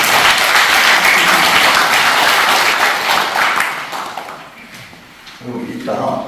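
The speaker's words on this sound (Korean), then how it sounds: "김문환 이 사람은 박수 한번 주세요" Applause from an audience at a Korean literary gathering, loud and dense at first, then thinning and fading out before a voice begins speaking near the end.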